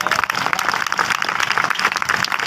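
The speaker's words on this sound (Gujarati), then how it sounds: "આપણે બધા એમની તાળીઓથી વધાવીએ" An audience at a community gathering applauds, a steady dense wash of clapping that holds throughout with no voices over it.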